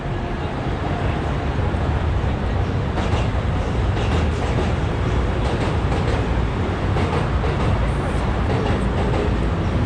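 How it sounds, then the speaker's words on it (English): A continuous roar of a passing train near Seibu Shinjuku station in Shinjuku, Tokyo, at night fills the scene, dense and loud, with faint clattering bursts scattered through the steady rumble. "Another train."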